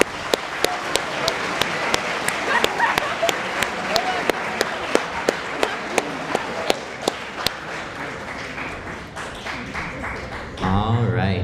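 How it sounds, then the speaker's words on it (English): A school assembly audience claps in steady applause with sharp individual claps standing out, continuing for several seconds before shifting into murmured voices at the end. "I'm going to ask that we give a big round of applause"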